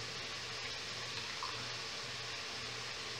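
Water runs steadily into a cooking pot to cover lentils for a lentil and calabresa sausage soup, a continuous close rushing pour with no talk over it.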